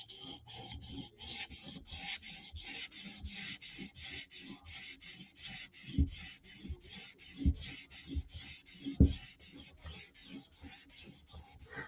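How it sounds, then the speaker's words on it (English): A Shaman knife blade with PVD coating is sharpened in steady back-and-forth scraping strokes, close and even, with a few heavier thumps mixed in and no talking. "Just sharpening a shaman all shiny."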